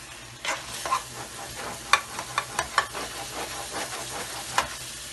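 Meat roasts in a pot on the stove, giving a steady low sizzle broken by irregular sharp scrapes and clicks as it is stirred. The sounds are close and no one speaks.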